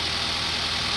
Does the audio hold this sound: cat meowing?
no